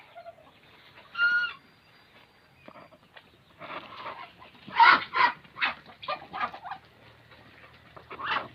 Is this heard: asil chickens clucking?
yes